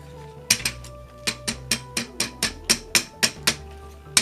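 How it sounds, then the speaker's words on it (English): The plastic shoulder joints of a Tobot Y transforming toy robot ratchet through a rapid series of about a dozen crisp, evenly spaced clicks, close up and alone. "There are many clicks on the outward shoulders."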